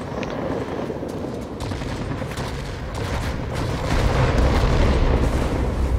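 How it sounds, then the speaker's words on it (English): The 50mm cannon of a Me P.1099 B-2 jet ground attacker in World of Warplanes fires rapidly, making a dense, continuous roar of shots that grows slightly louder toward the end. "The gun fires fairly rapidly."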